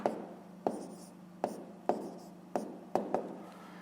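Pen strokes on paper as fractions are handwritten for a fifth-grade maths exercise, with about eight short scratchy marks at an uneven pace, close and fairly quiet.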